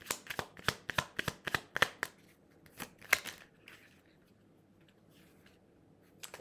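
Playing cards are handled in quick succession, a run of crisp snapping riffles and flicks followed by a few scattered card sounds before things go quiet, with a soft voice in the background.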